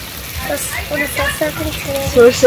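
Mustard oil sizzles and crackles in a frying pan while a spatula stirs, a steady close frying hiss with a few louder spits near the end.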